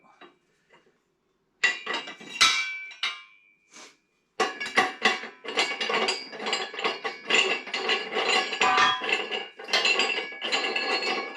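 Parts being screwed onto a Harbor Freight tire changer, close metallic clinks, ratcheting clicks and scraping of metal on metal, sparse at first, then busy and irregular.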